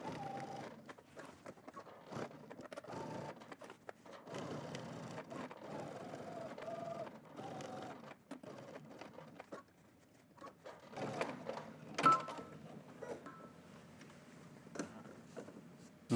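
A sewing machine stitches and back-stitches a seam on a puffer jacket in several short bursts of fast mechanical whirring separated by pauses and handling noises.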